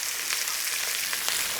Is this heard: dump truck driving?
no